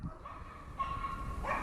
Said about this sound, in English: as soon as you start recording, everyone comes out, the dogs start going mad